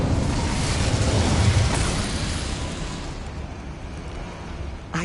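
An Incendio fire spell cast in a wizarding video game gives a loud whooshing burst of flame that roars for a few seconds, then fades to a softer crackling hiss, with a short sharp sound at the very end.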